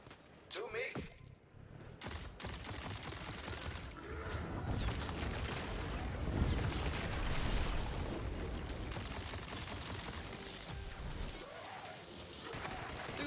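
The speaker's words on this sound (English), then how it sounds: "Loot explosion! More loot explosions!" Dense, continuous burst of game explosions and gunfire-like crackle from loot drops in the video game Tiny Tina's Wonderlands, sustained and loud throughout, with a sharp initial hit and voices talking over parts of it.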